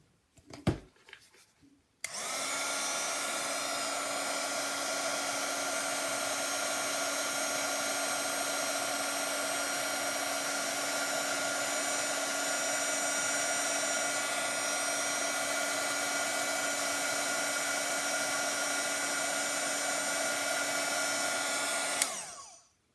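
A heat tool blows hot air in a steady, loud, continuous roaring hiss that lasts about twenty seconds after a brief click and startup, then switches off at the end.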